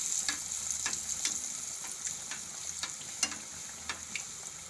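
Continuous sizzling of battered bread fritters in oil with a bright hiss, punctuated by regular scraping clicks of a utensil stirring in the pan.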